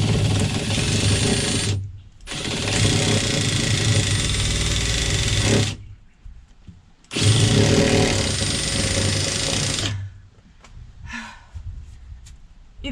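A power drill or impact driver whirs loudly in two long bursts of several seconds each while driving screws into the framing inside a RAM Promaster van, with quieter pauses and small knocks between runs.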